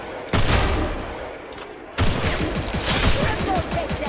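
Gunfire in a shooter video game, with sniper shots among it: a short burst, a pause, then sustained rapid shots rattling over a busy game soundscape, fairly loud.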